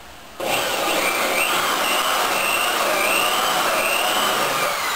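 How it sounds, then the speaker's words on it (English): A power drill boring 3/16-inch holes starts abruptly after a brief quiet moment, then holds a steady, loud, close whine with slight pitch wavers as it cuts, alone without speech. "Now I'm going to go ahead and put in some holes, some 3/16 holes."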